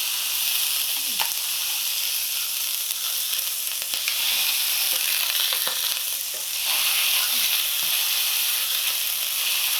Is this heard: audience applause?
no